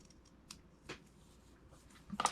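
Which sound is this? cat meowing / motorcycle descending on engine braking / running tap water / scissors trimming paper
scissors trimming paper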